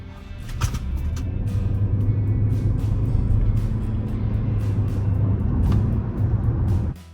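A BAIC B30e electric SUV accelerates hard, giving a steady, fairly loud rumble of road and motor noise that holds for about seven seconds before cutting off abruptly.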